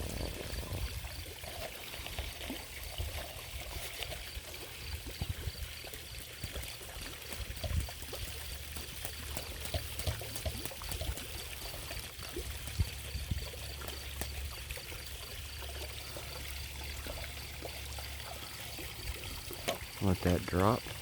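Water pours through a hose into a homemade chicken feeder built from scrap materials, a faint, continuous trickle and splash with a brief louder burst near the end, while a voice speaks now and then.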